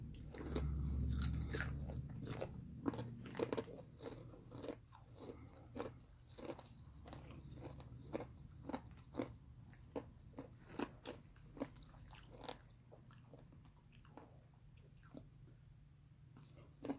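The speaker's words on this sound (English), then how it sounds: "Look, I'm gonna try it again." Cracker Jack Holiday Sugar Cookie popcorn with sprinkles crunched and chewed close up, a steady run of sharp crisp bites and crackles lasting throughout, with faint background hum.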